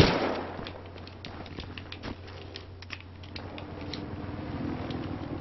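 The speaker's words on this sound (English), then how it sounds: "Frag grenade out." A frag grenade going off in the Battlefield Hardline video game: a loud blast at the start that quickly dies away into a scatter of sharp clicks and ticks.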